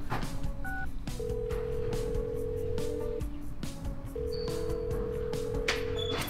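A mobile phone call is placed: rapid keypad dialing beeps, then long repeated ringback tones sounding steadily and close, with no voices.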